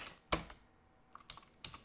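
Keys clatter on a computer keyboard, a sharp nearby keystroke followed by a quick burst of several lighter taps, with no talking.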